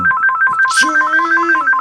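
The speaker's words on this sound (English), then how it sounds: "Man, that is a loud phone." A loud phone ringtone, heard close: a rapid repeating electronic trill of two alternating tones, with a brief rustle and a short sliding tone partway through.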